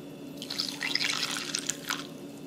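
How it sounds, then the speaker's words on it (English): Coffee poured over crushed ice in a glass gives a close, bright trickle with small clinks and drips that swell and fade over a couple of seconds, with no talk. "We're gonna pour a little bit of our coffee."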